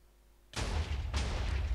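Two booming blasts in a blocky Minecraft-style survival game, the second following about half a second after the first, each a loud broadband burst with a rumbling tail and no talking over them.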